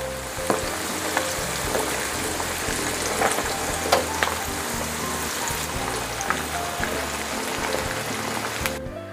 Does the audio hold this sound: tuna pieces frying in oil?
yes